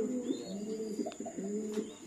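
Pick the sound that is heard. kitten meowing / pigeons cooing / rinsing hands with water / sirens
pigeons cooing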